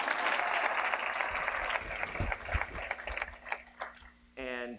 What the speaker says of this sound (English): a round of applause for that wonderful introduction